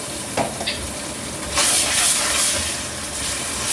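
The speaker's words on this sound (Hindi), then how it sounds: "तेल गरम हो गया, अब इसमें डालूँगी अदरक लहसुन का पेस्ट।" Ginger garlic paste is dropped into hot oil with whole spices like black pepper, cumin and cardamom, setting off a steady close sizzle and hiss that swells louder partway through as it is stirred. No one talks over it.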